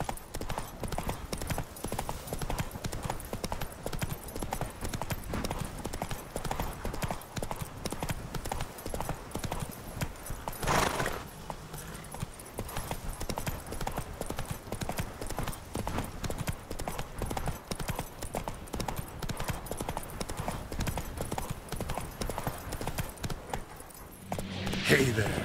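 Roach the horse gallops in The Witcher 3, hooves clip-clopping in a steady rapid rhythm throughout, with a brief whinny or burst midway and game ambience underneath, plus a short loud noise near the end.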